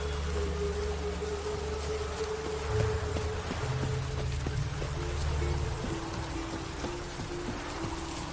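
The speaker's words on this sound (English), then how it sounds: "No use doing any work in this rain." Rain falls steadily in the video game Witcher 3, a faint continuous patter under a low background hum, with no talking.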